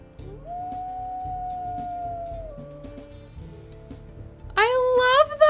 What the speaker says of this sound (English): what a lonely howl!